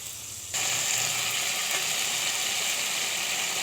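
Ginger, garlic and onion paste with turmeric hitting hot oil, a sudden loud hissing sizzle that bursts in after a quiet moment and holds as a dense, continuous close-up fry, with no voices.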